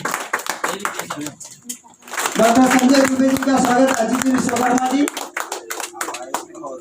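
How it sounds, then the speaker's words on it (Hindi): An audience at a 75th Independence Day celebration in a residential compound applauds steadily for a few seconds, while someone speaks over a loudspeaker before and after the clapping. "आप लोग खुशी खुशी तालियां बजाइए"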